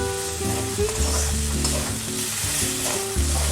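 Spice paste frying in oil in a pan, the oil starting to separate from the masala, giving a steady, close sizzle with occasional stirring sounds and no voices over it.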